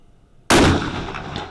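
A 6.5 Creedmoor rifle fires once at a target 230 yards away, a single loud, close blast that bursts out of near silence and leaves a rolling echo that fades slowly.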